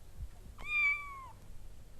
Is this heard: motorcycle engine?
no